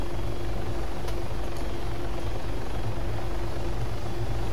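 A medium utility helicopter in ArmA 3 runs up on the ground, its rotor and turbine making a dense, unbroken loud roar with a steady whine held throughout and no talk.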